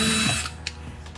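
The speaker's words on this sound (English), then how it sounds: "So I'm simply gonna ream the hole to see if I Mastercarded or slotted it." Power tool reaming a rivet hole in a composite side rocker panel on a 2020+ C8 Corvette, a steady close whirring grind that fades midway, with a couple of brief clicks and a sharp tap at the end.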